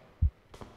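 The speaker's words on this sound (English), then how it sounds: "I don't like that heartbeat." A heartbeat sound effect in the horror video game Shutter gives one deep, muffled thump followed by a softer second beat, heard alone and close.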